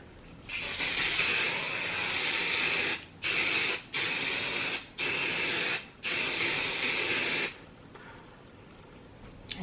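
Flexible-hold hairspray is sprayed onto a face in a close, fairly soft hissing burst lasting a few seconds. Several shorter sprays follow in quick succession with brief gaps between them, then the sound stops.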